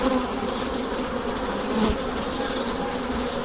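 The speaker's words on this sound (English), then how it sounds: "You can hear the bees getting a little bit busy" Honeybees in an open National 14x12 hive buzz in a dense, steady hum close by, a busy swarm droning with one brief louder pass partway through.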